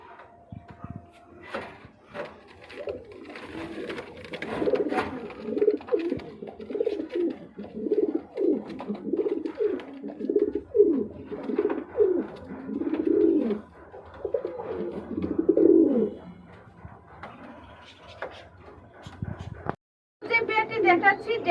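A Red Sirazi breeding pair of pigeons coo repeatedly in soft, throaty rolling phrases, close and steady throughout, with someone talking over them.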